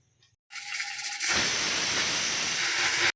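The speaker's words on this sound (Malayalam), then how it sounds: "ഒരു വിസിൽ വന്നിട്ടുണ്ട്." A pressure cooker on the stove, cooking purple yam curry, lets off a single loud, sustained whistle. The steady hissing rush starts abruptly and holds at full strength for about two seconds, with no one talking over it.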